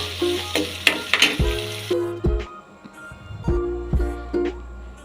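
Chopped onions fry in a pan for a kanda tomato pulusu, a close crackling sizzle punctuated by spoon scrapes and stirs, the hiss dropping away briefly before resuming, and no one speaks.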